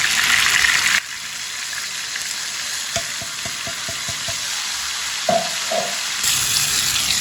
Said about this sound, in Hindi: अब ये मिक्स किया हुआ पेस्ट डालेंगे।